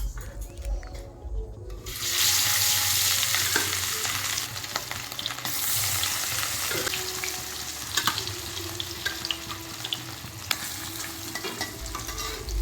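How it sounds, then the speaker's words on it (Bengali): Fish drop into hot oil in a wok and fry with a loud, close sizzle that flares up at the start and then settles into a steady crackle, broken by occasional clinks and stirring. "আর এবার আমি মাছগুলোকে প্রথমে ভেজে নেব।"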